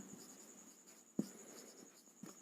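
Pen or chalk writing during a Hindi-language Class 10 maths lesson on circles, heard as faint scratchy strokes with a couple of sharper taps against a steady background hiss, no voices.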